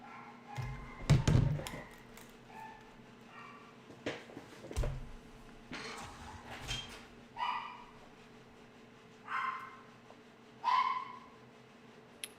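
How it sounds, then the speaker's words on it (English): Dogs bark in scattered single yelps at a distance in Call of Duty: Mobile battle royale, about half a dozen spaced barks over a low game hum with a couple of heavier thuds. "There's some dogs."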